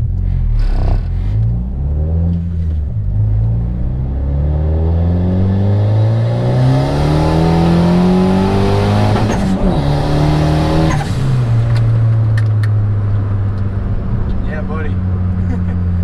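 A turbocharged Honda Accord fitted with a bigger air filter accelerates hard: loud, close engine pulls climb steeply in pitch, drop at each gear change and climb again, with a harsh roar throughout.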